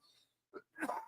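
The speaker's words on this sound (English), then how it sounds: "I can't mute myself when I cough because these mics don't allow it" A cough from someone recording a workshop talk show on a microphone that cannot be muted: a short sharp burst, a brief pause, then a longer, rougher burst, close to the mic with no other voices.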